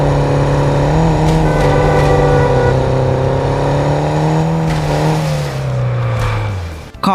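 A car engine in the mobile driving game Car Parking Multiplayer 2 holds a steady, loud drone with a rising and falling pitch, then fades toward the end.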